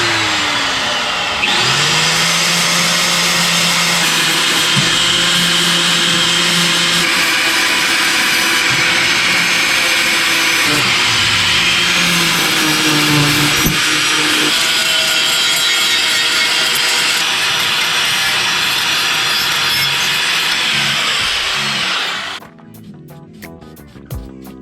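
A flap disc on an angle grinder grinds the mating surfaces of a Kawasaki 440/650 jet ski engine case, a loud, steady abrasive whine lasting about twenty seconds with slight pitch shifts before it cuts off and spins down.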